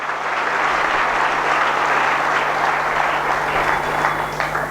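Sustained applause from an audience at a provincial youth wing gathering, loud and dense, holding steady from start to finish with no voices on top.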